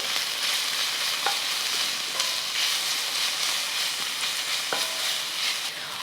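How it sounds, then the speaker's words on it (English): Garlic is stirred into golden fried onions over medium heat for a German paprika goulash stew, giving a continuous close sizzle with a few brief spoon scrapes against the pot. "so now that the onions are golden, we're going to add some garlic. And we stir for 1 minute."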